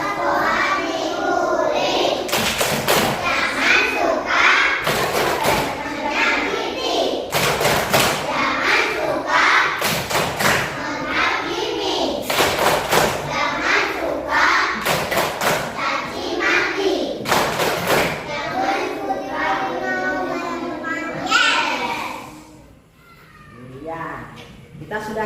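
Children in an Indonesian classroom sing a clapping song. Sharp, rhythmic hand claps land in regular bursts under their chanting voices, loud and close for most of the stretch before trailing off near the end.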